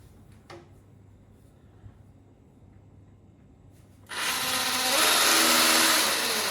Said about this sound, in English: now we need to drill